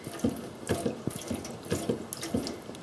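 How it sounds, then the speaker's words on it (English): Water runs steadily from the faucet of a camper's water system during sanitizing, a close, continuous splashing stream with small gurgling pulses as it flows into the sink. "So we're gonna work some of the water through, make sure that it gets into the pump part itself."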